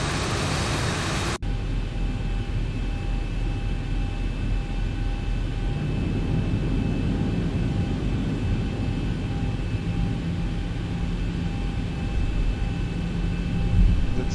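Reverse thrust on a simulated airliner in X-Plane 11 gives a steady, broadband roar after a sharp cut-off at the start. The whoosh holds at a constant moderate level for the whole stretch, with faint tonal whines underneath and no voices.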